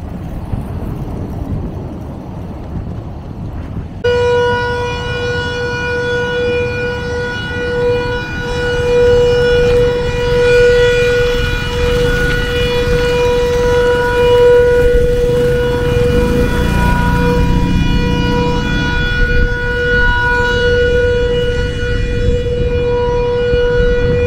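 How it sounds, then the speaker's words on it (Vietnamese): A runway warning siren at an airport in Tuvalu sounds before a plane lands, holding a loud, steady wailing tone for about twenty seconds over a low background rumble. "khi có máy bay chuẩn bị hạ cánh thì có tiếng còi báo động vang lên để mọi người rời khỏi khu vực đường băng"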